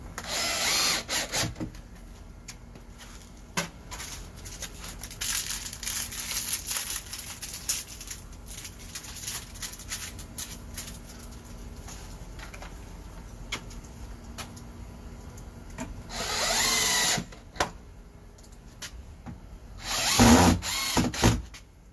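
A power drill drives colour-matched screws into the side holes of a Larson Secure Elegance storm door during installation, whirring in repeated short bursts with ratcheting clicks, close by, with louder high-pitched runs near the end.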